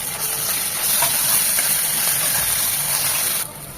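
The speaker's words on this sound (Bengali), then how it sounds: "এটাকে 1 মিনিট ভেজে নেব যেন আদার ঝাঁঝালো গন্ধটা চলে যায়" Ginger-garlic paste with equal parts ginger and garlic sizzles in a pan, a loud, continuous frying hiss that holds steady before dropping off abruptly near the end.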